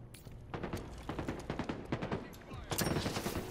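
Rapid automatic gunfire in a Diamond-rank Halo Infinite match comes in dense repeated bursts with several close, loud volleys, and faint voices underneath.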